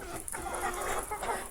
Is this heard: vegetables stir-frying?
no